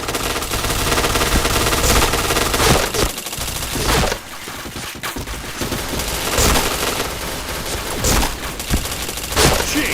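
Rapid, dense automatic gunfire from the PointBlank shooter game rattles in continuous loud bursts, pausing briefly at moments before heavy firing resumes, with no voices.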